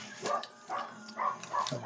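A dog gives four short, faint barks in an evenly spaced run, somewhat distant, over a quiet indoor background during a card game.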